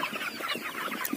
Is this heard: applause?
no